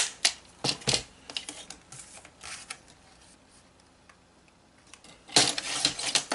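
Scissors or a trimmer cut through a leftover piece of 12 by 12 paper, giving short crisp snips and rustles near the start and a louder burst of cutting near the end, with quiet gaps between.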